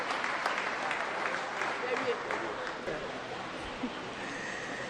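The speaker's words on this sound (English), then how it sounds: "Please let's give them a round of applause and also clap to thank our President for giving us such a very big gift" Audience at an annual New Year School and conference gives a round of applause, a dense wash of clapping at moderate distance that continues steadily for several seconds, with some voices faintly mixed in.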